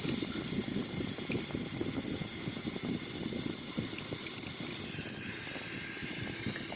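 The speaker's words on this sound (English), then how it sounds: "You're gonna see the engine stop spinning in a while." Twin engines of a Boeing 737-800 in a flight simulator game spool down after fuel cutoff, giving a steady, loud whirring rumble with a high whine above it that holds level throughout, with no talk.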